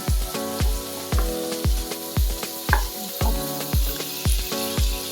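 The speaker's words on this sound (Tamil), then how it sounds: "தக்காளி நல்லா மசியட்டும் மசிய வரைக்கும் நல்லா வதக்குங்க" Tomatoes sautéing in oil in a pan for onion rava dosa, a steady close sizzle running beneath a rhythmic beat of background music with regular thumping drums.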